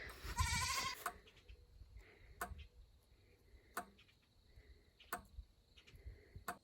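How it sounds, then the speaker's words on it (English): A goat bleats loudly up close at the start, followed by scattered clicks and distant goat and sheep calls across a quiet outdoor homestead background. "I see 2 goats"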